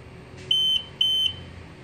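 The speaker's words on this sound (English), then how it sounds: "That's 3 beeps maybe. 4 beeps. 5 beeps." Two sharp, evenly spaced electronic beeps from a Hansshow automatic frunk opener being programmed on a Tesla Model 3, each about a quarter second long, clear and close over a quiet background.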